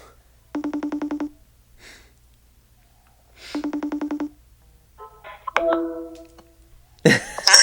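Two bursts of a trilling telephone ring sound a few seconds apart. Softer rustling and shuffling noises follow, then a sudden loud clatter at the end.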